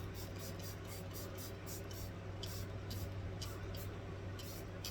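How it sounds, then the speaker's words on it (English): A face setting spray is misted onto the face in a run of short, even hissing bursts, sharp and close, with faint background hum and no talk. "Let me spray my face one more time with my final spray"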